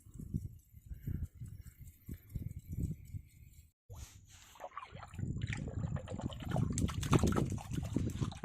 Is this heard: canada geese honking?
no